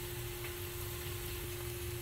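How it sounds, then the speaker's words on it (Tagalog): Onion and ginger cook in butter inside a covered pot, a soft, steady sizzle with a faint hum beneath it, low in level and continuous, with no voices. "Takpan muna natin guys para maluto yung sibuyas tsaka luya."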